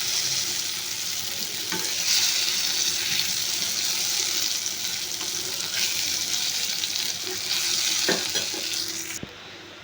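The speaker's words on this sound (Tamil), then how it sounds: "நம்ம எடுத்து வச்சிருந்த வாழைக்காவை எல்லாத்தையும் தோசைக்கல்லில் போட்டாச்சு" Raw plantain slices sizzle on a hot dosa griddle in a steady, loud frying hiss, with occasional soft scrapes and clicks of a spatula turning them, close by and unbroken.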